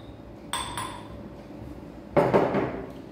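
A spoon clinks against a mug while egg whites and sugar are mixed, with a few sharp metallic taps followed by a louder scraping clatter near the end, close and without talk.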